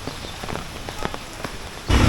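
Steady rain pours onto a waterlogged, traffic-jammed street, a dense hiss with scattered drop patters, ending in a sudden louder low rush like a passing vehicle splashing through water.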